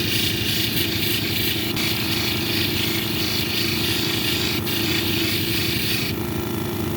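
A lapidary polishing wheel at 600 grit shapes a picture jasper cabochon, a constant loud motor drone and gritty grinding hiss with brief scraping surges.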